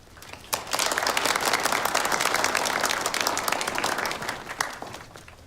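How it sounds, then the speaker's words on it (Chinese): Applause from a meeting audience, a dense burst of many hands clapping that sets in sharply, holds steady for several seconds, then thins toward the end. "用不着鼓掌"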